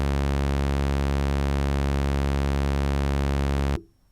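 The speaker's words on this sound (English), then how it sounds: "I've got one more, I think, on warps, which is a sawtooth, which is even more aggressive" A sawtooth wave from a modular synthesizer drones as a steady, bright, buzzy tone with many even harmonics, loud and unchanging until it cuts off abruptly near the end, leaving near silence.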